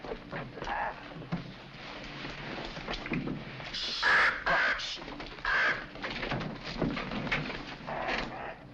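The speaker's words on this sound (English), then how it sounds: "Oh, that dreadful bird." A pigeon coos indoors in a few short repeated phrases that stand out over a faint, muffled background.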